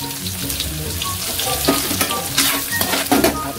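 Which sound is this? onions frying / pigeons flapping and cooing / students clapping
onions frying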